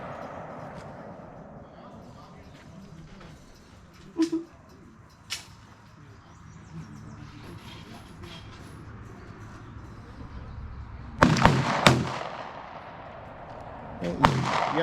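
Gunshots at an outdoor shooting range, a few sharp isolated cracks spaced apart and then a louder burst of shots near the end, over steady background noise and low chatter.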